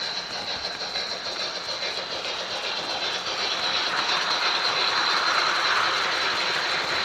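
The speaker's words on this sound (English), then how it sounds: "Let's crank this big steamer up." An MTH German BR44 2-10-0 model steam locomotive running fast with a freight train gives a steady whirring, hissing drone that builds slightly in loudness, heard alone with no talk.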